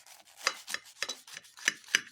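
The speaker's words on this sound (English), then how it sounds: "Let me go ahead and get a knife and cut this." A knife slices through an air-fried reuben sandwich with melted cheese and grilled bread, giving about six short crunchy cuts spaced roughly evenly, close and fairly quiet with no talking.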